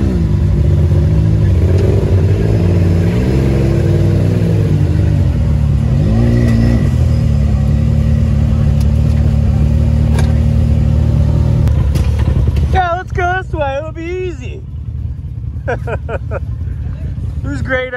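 Lifted 4x4 engine revving hard while rock climbing outdoors, a loud sustained throaty roar with rising and falling revs, then easing off as people talk and call out nearby.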